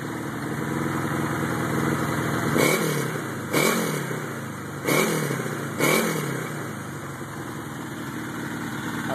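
A Honda CB750 motorcycle, rebuilt from two bikes and fitted with aftermarket exhaust, idles steadily and then gets four sharp throttle blips at regular intervals, each rev rising and dropping back to idle, close and loud.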